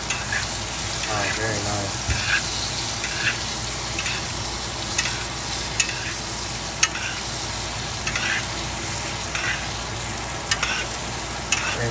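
Butter sizzles and spatters over a Wagyu steak being basted in a scorching-hot cast iron pan, a continuous loud frying hiss with scattered sharp pops and spoon clicks; a voice speaks briefly.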